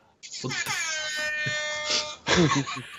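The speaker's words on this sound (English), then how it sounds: "I'm gonna turn on the rap air horn" A loud, blaring air horn with rich stacked harmonics sounds for about two seconds, then a second brassy blast follows.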